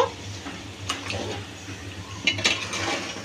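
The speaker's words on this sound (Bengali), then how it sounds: "দেখুন আমি এখানে এবার নারকেল আর রেডিমিক্স মশলা দেওয়ার পরে আবারও ভালোভাবে 5 মিনিট এভাবে কষিয়ে নেব" Chicken stir-fried with coconut and ready-mix masala in a pan, with a few metallic spatula scrapes and clinks over a low, steady sizzle.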